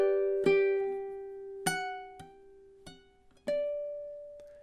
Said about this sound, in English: here's measure 10 in time